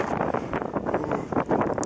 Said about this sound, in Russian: Ну, очень сильный ветер и холодный.